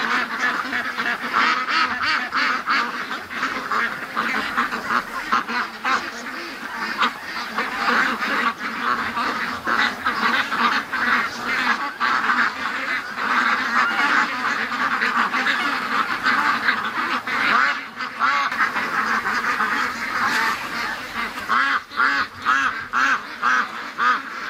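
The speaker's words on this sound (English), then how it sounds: "Okay, so now Doug is herding them all back into the yard. They're scattered over there" A flock of ducks quacks and honks continuously while a dog herds them back into a yard, the calls overlapping loudly and close throughout.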